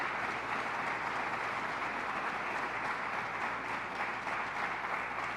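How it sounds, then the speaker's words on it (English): Sustained applause from an audience at a governor's press briefing on crime, a dense steady wash of clapping throughout with no speech. "I want to applaud you."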